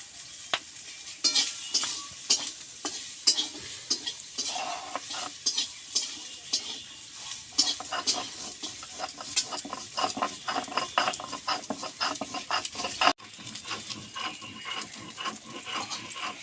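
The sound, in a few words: stirring poppy seeds and chilli paste in a frying pan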